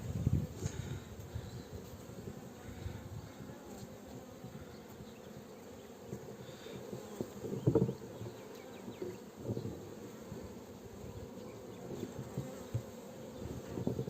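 Honeybees hum steadily around an open beehive during a queen bee inspection, the buzzing close and fairly quiet, with individual bees droning past and soft rustling of handled frames throughout.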